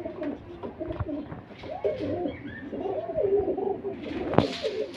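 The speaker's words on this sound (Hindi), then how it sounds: "ये ऊपर बैठे हुए हैं कुछ कबूतर।" Highflyer pigeons perched up on a loft in Lahore coo softly and continuously in low, rolling phrases, with a few wing flutters and a sharp tap near the end.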